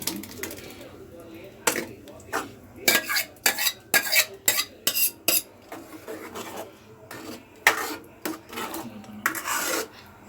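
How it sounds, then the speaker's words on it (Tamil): Tomato with chilli powder and salt being mixed in a pan, a run of quick rasping scrapes and clinks from a spoon against the metal, irregular bursts with brief pauses, close and fairly loud. "நல்லா மிக்ஸ் பண்ணிக்கோங்க."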